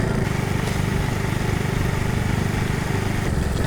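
A motorcycle engine runs steadily and close by, a continuous low rumble with no clear revving, left on a road near a bridge site in Sorsogon.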